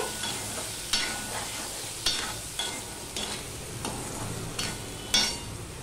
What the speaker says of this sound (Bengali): নুন হলুদটা দিয়ে আমি আবারও মিশিয়ে নেব।